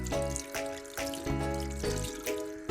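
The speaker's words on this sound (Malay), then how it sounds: "Cucikan tangan dengan air bersih, basuhkan sabun hingga berbuih" Running water splashing steadily from a tap as hands are washed with soap, a continuous near trickle with brief surges and pauses, heard alone without talk.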